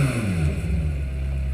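McLaren Senna engine captured by an onboard microphone in Forza Horizon 4 sound recording, a brief loud rev with a pitch that sweeps down and then settles into a deep, rough, steady drone.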